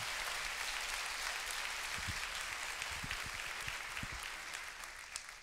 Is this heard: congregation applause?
yes